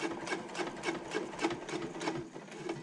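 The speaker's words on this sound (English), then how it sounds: "I'm going to go and pivot so that I'm sewing back up the seam" A sewing machine stitches a handbag liner seam in a quick, steady rhythmic chatter of needle strokes, close and moderately loud throughout.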